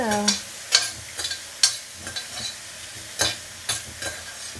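Spinach being sautéed in a pan for palak chapathi, stirred with a spatula that scrapes and taps at irregular intervals over a soft, steady background sizzle, close and moderately quiet, with no talking.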